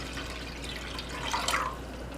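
One liter of water is poured into a pan, giving a close, steady splashing trickle that rises into a brighter gurgling pour partway through.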